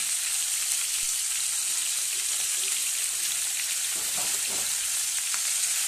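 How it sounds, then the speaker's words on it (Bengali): Tangra fish fries in hot oil with a dense, steady sizzle and spattering crackle, loud and close throughout. "তো তেলটা ছিটকাচ্ছে, তো মাছটা ভাজা হোক।"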